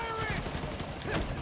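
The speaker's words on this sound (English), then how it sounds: "Police and escapees are shooting it out." Gunfire crackles through a shootout between police and escapees in Spider-Man: Miles Morales, a dense burst of rapid shots under game noise.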